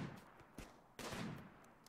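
Faint, distant sniper rifle shots ring out in the Rimworld game, two or three sharp cracks spaced apart, each trailing off into a soft echoing rumble.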